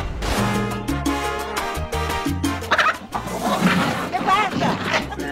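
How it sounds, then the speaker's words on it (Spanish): A rooster crows loudly in drawn-out, harmonic calls, followed by more fowl-like squawking and busy background sound. "Gallo, un gallo maldito."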